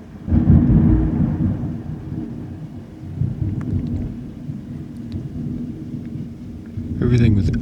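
Thunder from a band of strong elevated thunderstorms, deep rolling rumbles that rise early and keep grumbling steadily underneath steady rain, with a brief sharper crackle near the end.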